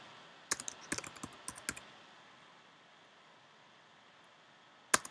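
A short burst of computer keyboard typing, roughly a dozen quick clicks over about a second, then quiet room tone and one final louder keystroke, moderately close.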